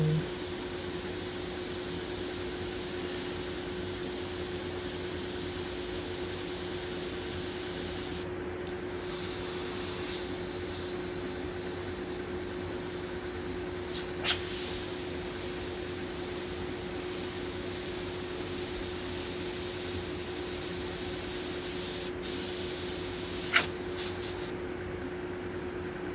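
An airbrush hisses steadily as paint is sprayed to clean up overspray edges on a skull, a continuous close hiss with a few brief breaks and bursts.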